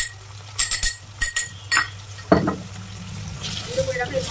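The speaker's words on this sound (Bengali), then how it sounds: "গুঁড়ো করে রাখা এই মশলাটা দিয়ে আমি নেড়ে নেবো কিছুক্ষণ, ভালো করে পেঁয়াজটা আর চিকেনটা কষিয়ে নেবো।" Chicken and onion frying with ground spice while being stirred in a pan, a steady soft sizzle under sharp clinks and scrapes of a spoon against metal, close by, with no talk.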